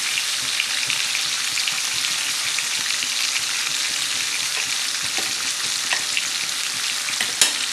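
Batasio fish frying in a pan with cumin paste and a little mustard paste, a loud, dense, continuous sizzle with a few light knocks toward the end.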